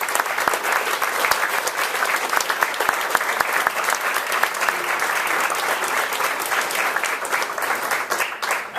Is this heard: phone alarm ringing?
no